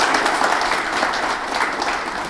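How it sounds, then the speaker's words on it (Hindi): A crowd applauds steadily, dense clapping from many hands sustained throughout, moderately loud and without talk. "तालियां हो जाए इस बात पे।"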